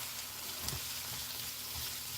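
Onions frying in a pan, a steady soft sizzle with faint crackles and a brief stir or clink, close and fairly quiet with no talking.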